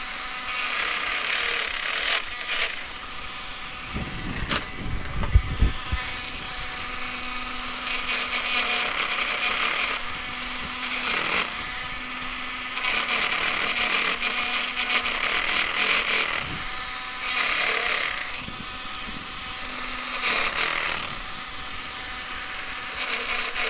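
A power tool taking the burr off a handmade whale tail pendant, heard as repeated bursts of close whirring and rattling grinding separated by brief pauses, with a sharp knock near the start.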